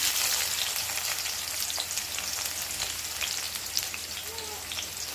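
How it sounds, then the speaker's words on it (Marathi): Onion fries in hot oil with cumin and mustard seeds for kanda poha, giving a soft, continuous crackling sizzle at moderate distance with scattered small pops. "तेल गरम झाले, त्यामध्ये जिरे मोहऱ्या टाकून घेतल्यात। आता त्यामध्ये आपण कांदा टाकून घेऊ।"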